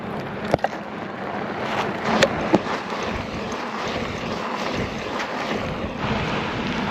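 Strong headwind buffeting the microphone while riding a mountain bike in winter, a constant rumbling roar with a few sharp knocks, and no voices.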